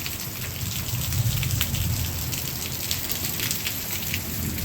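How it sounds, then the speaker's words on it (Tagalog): Heavy rain pours down during a tropical thunderstorm, a dense, steady hiss of drops drumming on surfaces close by, continuous and fairly loud throughout with no distinct thunderclap. "We're having a lot of rain. We're having a thunderstorm."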